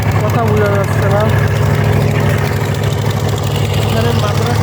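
A trawler boat engine running near a riverbank where sand is being unloaded, a loud steady low chugging drone throughout with faint voices in the background.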